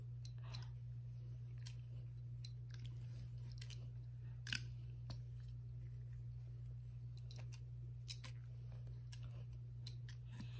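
Pipe cutter rotating around PVC pipe, producing faint scattered clicks and creaks at irregular intervals over a steady low hum.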